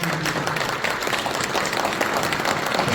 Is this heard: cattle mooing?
no